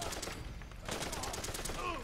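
Faint, rapid bursts of fire from a belt-fed M60 light machine gun in Fallout 4 pound in a steady, dense rhythm throughout, distant-sounding and low in level.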